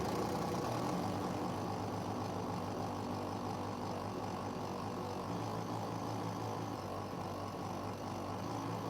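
A hole saw bores through metal during a fuel sump install on a Ford F250 6.0 diesel, a loud continuous grinding drone held steady and close throughout with no voices.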